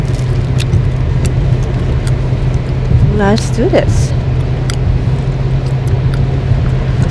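Car interior while driving on a road, a steady low engine and road rumble throughout, with a person talking briefly over it near the middle.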